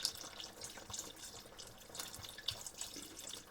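Red wine, a dry cooking wine, pours steadily into a dish for lamb, a soft continuous trickle with small splashy bursts, faint and close, with no talking.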